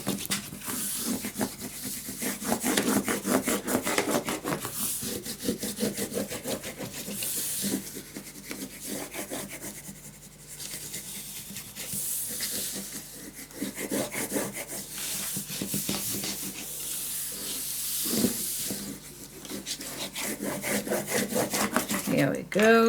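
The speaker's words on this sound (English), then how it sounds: "Then we're going to flip this over and we're going to burnish it down." Paper being burnished flat for a Halloween-themed scrapbook pop-up album, giving continuous loud, close scraping and rubbing strokes in quick repeated bursts with brief pauses.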